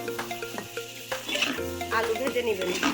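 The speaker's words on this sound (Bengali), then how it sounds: "সুন্দর করে এভাবে হলদে হলদে কালার করে একটু আলু ভেজে নেবেন" Potatoes fry and sizzle in a pan while being stirred, with soft scraping and clinks of the utensil and a tonal background sound running underneath.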